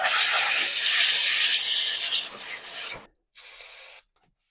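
Compressed air blasts over the diesel fuel filter housing lid on a Volkswagen Jetta MK6 TDI, a loud steady hiss for about three seconds, then a second shorter burst.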